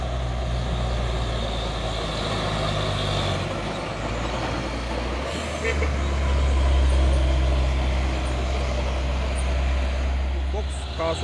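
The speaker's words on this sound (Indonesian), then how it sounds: "Lagi truk box Hino Jember." A Hino box truck from Jember rumbles past on a busy road, its heavy engine a steady, loud drone that swells near the middle while people talk over it.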